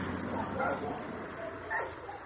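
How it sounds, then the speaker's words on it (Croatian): Dogs confined in a dog catcher's truck in Subotica bark, yip and whimper faintly at a distance, mixed with people talking nearby. "Tamo ima još pasa, pun je kamion pasa."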